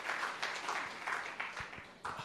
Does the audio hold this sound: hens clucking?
no